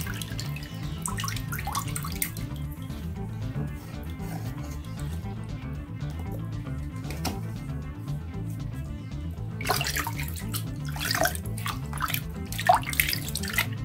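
Water drips and trickles steadily from a soaked rabbit hide hung to drain, an irregular patter of droplets with a few louder splashing bursts, fairly close and quiet.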